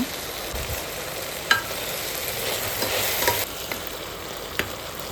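Chopped vegetables with tomato and turmeric fry in a pan for oats bisibele bath, stirred steadily: a continuous close sizzle with occasional sharp scraping clicks of the spoon.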